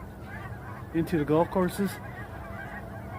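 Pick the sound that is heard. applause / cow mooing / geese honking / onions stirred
geese honking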